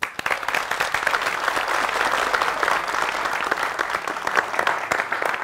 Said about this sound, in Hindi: मैं चाहता हूं कि आप सभी लोग किरीट जोशी जी के लिए जोरदार तालियां बजाएं।